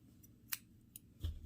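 Scissors snip a yarn tail on a crocheted amigurumi bear, giving a few quiet, crisp close cuts separated by short pauses.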